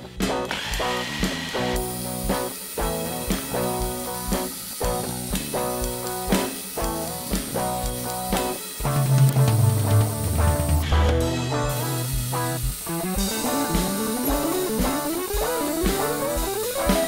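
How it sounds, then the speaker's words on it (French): A drill press whirs and grinds steadily, the motor humming with shifting tones as the bit cuts, close and moderately loud. "Perceuse à colonne vivement recommandée."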